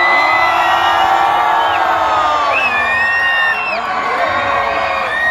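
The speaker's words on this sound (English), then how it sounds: "One, give two, three, scream!" A crowd at a New Year carnival screams together on cue, a loud sustained burst of whoops and high shrieks from many voices that carries on for several seconds, with a host's voice briefly nearby.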